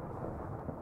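Rumbling thunder from a thunderstorm in Minecraft RLCraft, a low, steady broadband roll heard alone and at moderate loudness for under a second.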